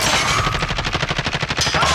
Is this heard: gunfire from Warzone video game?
yes